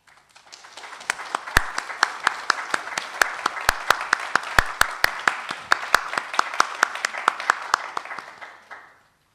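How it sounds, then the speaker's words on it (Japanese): An audience at a public debate for Noda mayoral candidates applauds as the facilitator enters, a dense round of claps with sharp individual hand strikes standing out, steady before tapering off near the end. "皆様拍手を持ってお迎えください。"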